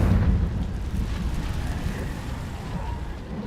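A Confringo fire spell blast in the video game Hogwarts Legacy, a deep rumbling boom that starts strongest and settles into a sustained low roar, fairly loud and without talk.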